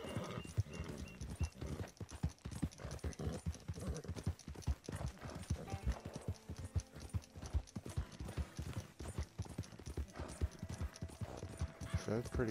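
Rapid, rhythmic clip-clop of a horse's hooves galloping across ground in Red Dead Redemption 2 Online, close and continuous, with occasional faint mechanical clinks and a brief whinny.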